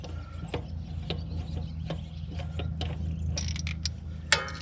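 A seed disc being fitted onto a soybean planter on a farm, with close mechanical clicks, ratcheting and metallic clacks at irregular intervals over a low engine hum, and a sharper clack near the end.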